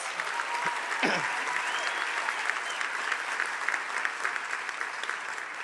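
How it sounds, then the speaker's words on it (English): Sustained crowd applause fills a pledge ceremony for final-year health sciences students, steady and evenly loud throughout. "Let's give another round of applause."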